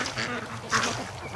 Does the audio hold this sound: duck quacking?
yes